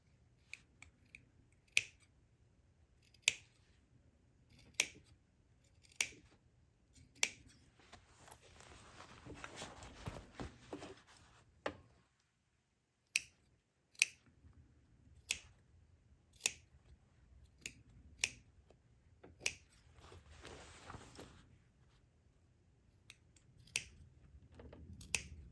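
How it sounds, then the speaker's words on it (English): Scissors make quiet, crisp snips into the corners of sewing material, about a dozen sharp cuts at uneven intervals with soft handling rustle in between. "optionally, you can add some snips in the corners to help make the turn a little bit easier"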